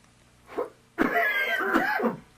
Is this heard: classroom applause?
no